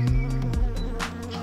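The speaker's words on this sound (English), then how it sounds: "This is Baby Bee" A cartoon bee buzzes in a steady, close, fairly loud drone with slight pulsing, alone without talk.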